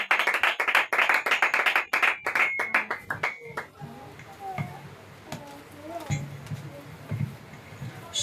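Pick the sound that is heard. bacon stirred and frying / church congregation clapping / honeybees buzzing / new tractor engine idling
church congregation clapping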